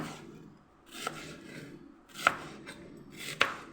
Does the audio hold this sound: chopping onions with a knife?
yes